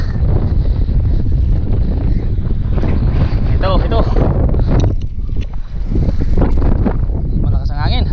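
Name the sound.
strong wind on a boat at sea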